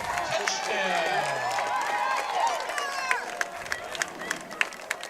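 Crowd at a high school football game, Portland High against South Portland, cheers and claps for a touchdown. The crowd noise is a broad roar that tails off into scattered claps.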